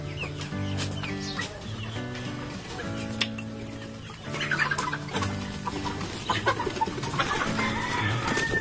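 Chickens clucking steadily inside a grower house, several birds overlapping with busy, irregular clucks and occasional louder squawks, no talking.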